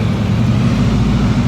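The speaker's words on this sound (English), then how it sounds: "This guy just keeps moving his truck." Truck engine idling and rumbling steadily nearby as it is repositioned in a parking lot at a 1940 Ford car show in Anaheim, a continuous low, loud drone without pauses.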